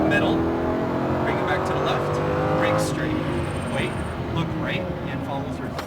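A Lamborghini Huracan accelerates on a racetrack, its engine note rising steadily and close up under continuous spoken coaching from an instructor.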